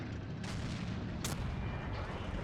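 Tank cannon fire in the game World of Tanks, with a Nashorn, Chaffee, Cromwell and Jackson in battle: a dense, rumbling barrage of distant booms under a steady low battlefield roar, fairly quiet overall.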